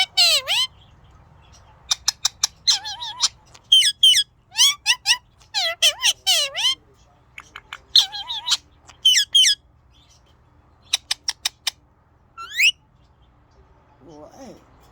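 A ringneck parrot gives bursts of sharp chirps and squawks in quick clusters, loud and close, with short quiet gaps between calls.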